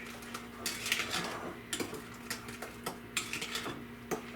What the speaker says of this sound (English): So you mix that in. Mix it all together.